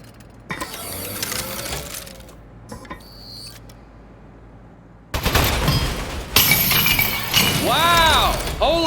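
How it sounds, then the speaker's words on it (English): A turret breaking apart in the game Aperture Desk Job, a loud shattering crash with clattering mechanical debris and whirring, rapid rattling bursts, followed by a second burst of crunching destruction near the end. "Oh, man, the turret broke."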